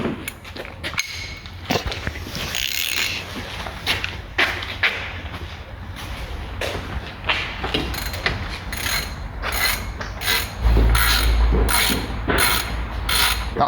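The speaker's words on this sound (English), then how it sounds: "with that out of the way now, we can remove the brake caliper." Quick repeated clicking of a ratchet tool in bursts, close up, removing a Ford Mondeo ST200 brake caliper, with metallic clanks and faint shuffling around it.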